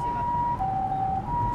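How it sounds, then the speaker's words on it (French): An ambulance siren wails steadily in the streets of Vientiane, Laos, a sustained two-tone wail heard from some distance over low traffic rumble, with no clear speech. "À Vientiane, tout le monde connaît ces ambulances."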